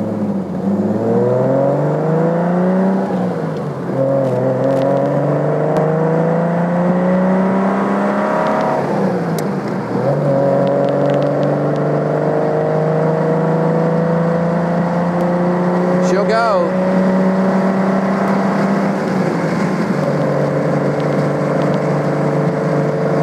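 A 1972 Triumph TR6 engine drones steadily at about 3,500 rpm, its pitch rising and falling with gear changes into overdrive, heard from inside with a continuous whirring hum.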